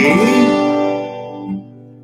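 A single acoustic guitar chord strummed and left ringing, its tone fading out, with a softer second strum near the end.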